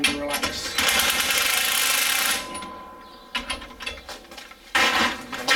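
Bolts on a strut spring compressor are turned loose on a Ford Focus front strut, with rapid ratcheting clicks and metallic mechanical whirring in bursts and short pauses between them, close by.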